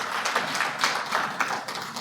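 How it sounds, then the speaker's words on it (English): Audience applause in a hotel ballroom at a round-table event, a steady dense patter of many hands clapping, fairly close and continuous. "So give yourselves a round of applause"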